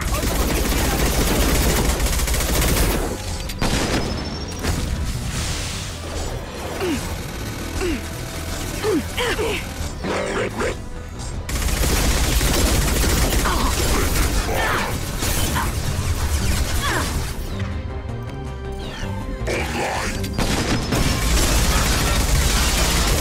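Weapons fire in the sci-fi shooter Mass Effect 2: loud, sustained bursts of gunfire mixed with mechanical clanks and clatter, dipping briefly in the middle before the barrage resumes.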